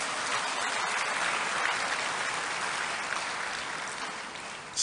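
Sustained audience applause fills a hall at the inauguration of the Kinshasa financial centre, a steady even wash of clapping that holds throughout and ends with a brief louder bump.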